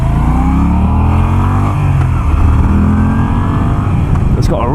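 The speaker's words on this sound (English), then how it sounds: "It's got a really nice little pop to it when you change gears." A Ducati Scrambler 800 motorcycle accelerates hard on the road, its engine roaring loud and close with rising revs and a quick gear change, wind noise over the top.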